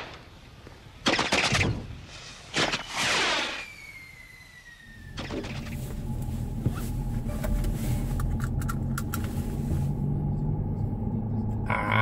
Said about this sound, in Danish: Fyrværkeri kan de heller ikke lave herhjemme.